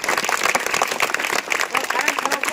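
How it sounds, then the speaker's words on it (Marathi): A gathering of students at a Marathi spiritual talk claps together in a thick, lively round of applause, with voices talking over the clapping. "सर्वांनी तर टाळ्या वाजवायच्यात महाराजांसाठी."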